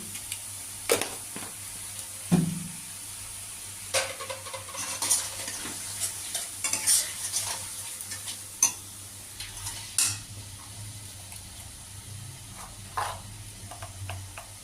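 A spice masala with Kashmiri chilli powder is stirred in a cooking pan, giving a quiet oily sizzle under scattered scrapes and clinks of the spoon at irregular moments, with no voices.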